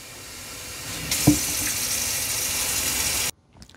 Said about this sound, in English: We're gonna fill it up with water first and then we're gonna add our solution.